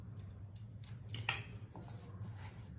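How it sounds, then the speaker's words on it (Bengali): A spoon spreads paste over rolled dough for khaja sweets, giving soft scrapes and light clicks of metal on dough at an uneven rhythm, close and quiet against a low background hum. "আমি চামচ দিয়ে লাগাচ্ছি।"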